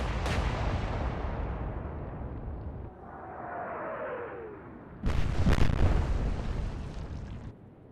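Naval guns fire in a World War II sea battle in the game Atlantic Fleet, with Royal Navy ships engaged. Two heavy booms, one at the start and a louder one about five seconds in, each followed by a long rumbling roar, with a whistling shell between them.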